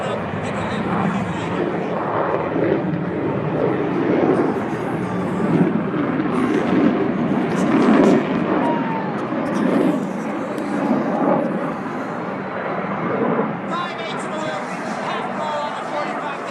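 Jet aircraft engine roaring steadily and loudly as a plane comes in to land on a carrier deck, a continuous broadband rumble with surges, with talk faintly underneath.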